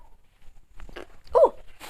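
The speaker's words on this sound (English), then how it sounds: "I'm going to sneeze." A single sharp sneeze bursts out after a moment of near silence, close and fairly loud, followed by a brief breathy exhale.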